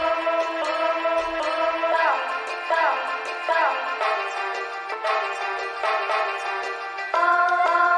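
Trap beat played unfiltered, with bright, full synth chords and melodic notes in a steady repeating pattern, loud and close, with no vocals.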